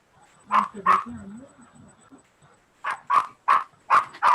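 A female dog barks in short loud bursts: two barks, a pause with quiet talk, then a rapid run of five more barks close by.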